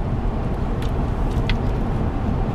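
From inside a moving truck, a loud, steady road rumble and engine drone run throughout, with no voices.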